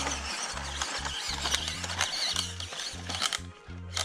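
A WPL C14 1/16-scale 4WD RC crawler strains up a hill, its small motor and gears whining and grinding in rapid, stuttering bursts with a harsh, continuous mechanical buzz, close and fairly loud.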